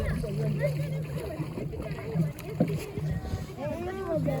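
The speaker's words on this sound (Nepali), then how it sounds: "दाइले चाहिँ डुङ्गा चलाइरहनु भयो" A rowing boat moves across Kulekhani lake with soft paddle strokes and water sloshing against the hull, heard under steady conversation between people aboard.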